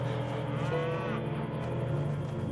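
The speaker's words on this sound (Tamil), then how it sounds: "மாடு ஏன் இப்படி கத்துது?" Cow in a rural home mooing repeatedly, loud and close, in long drawn-out calls that run over a steady low background, with no talk.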